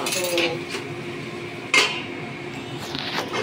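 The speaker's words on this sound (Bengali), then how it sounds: "ঢাকা দিয়ে দিলাম, কমে যা।" A metal lid set onto a cooking pot of paath saag gives a few light clinks and one sharper clatter, close by over quiet kitchen background.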